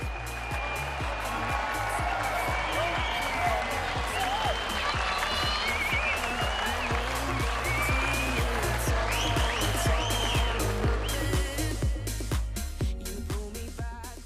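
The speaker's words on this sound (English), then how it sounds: "The crowd at Royal Randwick are going to erupt as they get a glimpse to welcome this marvellous racehorse back." Crowd at Royal Randwick racecourse cheering and applauding as the champion racehorse Winks returns, a loud sustained roar of clapping and shouting with scattered whoops, continuous for about fourteen seconds.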